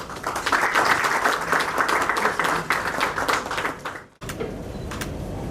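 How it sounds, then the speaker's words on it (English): An audience applauds the speaker, Dr. Yoav Leiser, at a dental lecture event in Surat, with sustained, moderately distant clapping for about four seconds before it cuts off to quieter room noise. "Dr. Leiser, please give a huge round of applause."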